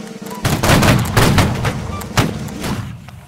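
Volley of rifle fire from a line of soldiers in a video game, a loud burst of overlapping shots around half a second in, followed by scattered further cracks and booms.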